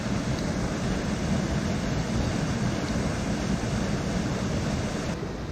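Lower Burney Falls, a waterfall at Burney Falls in light drizzle, gives a steady, dense broadband roar, unbroken and even throughout with no voices.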